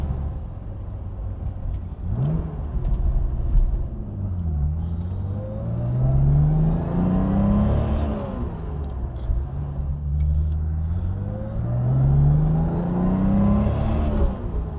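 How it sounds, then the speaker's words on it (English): A 1964 Aston Martin DB5 coupe's straight-six engine pulls through the gears while driving, its close, smooth note rising in long revving sweeps, easing off between pulls with a ZF gearbox. "It's got that lovely straight 6 sound."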